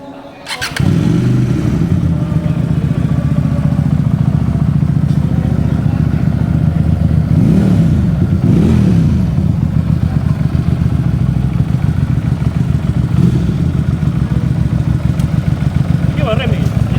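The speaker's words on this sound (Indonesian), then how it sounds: "Pengenalan motor. Ini 250 cc." A QJMotor 250cc motorcycle engine fires up and runs loud and close, idling with a steady throb and a few brief revs.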